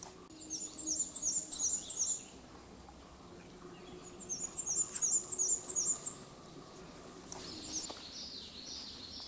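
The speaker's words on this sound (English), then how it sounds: "A black and white warbler." A black-and-white warbler sings outdoors by a pond in spring, two clear bouts of rapid high squeaky repeated notes, with a fainter third start at the end over quiet woodland background.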